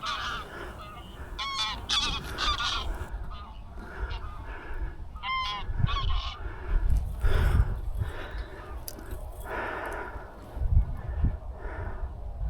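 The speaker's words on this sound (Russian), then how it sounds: "Тем временем вылет гуся продолжался." A flock of geese flying over a feeding field in November honks repeatedly with overlapping calls, near and far, alongside bursts of wind or movement noise and no clear speech.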